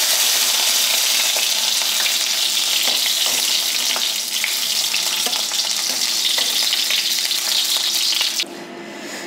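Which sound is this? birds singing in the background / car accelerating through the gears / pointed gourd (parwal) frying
pointed gourd (parwal) frying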